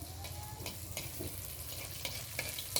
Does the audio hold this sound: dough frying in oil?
yes